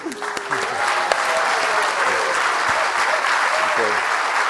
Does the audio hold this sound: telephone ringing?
no